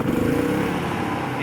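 A Predator 3500 portable generator engine just pull-started in the run position, running with a close, loud, rough mechanical drone and slight fluctuating RPM.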